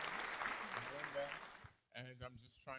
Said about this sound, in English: We're gonna go ahead and clap it up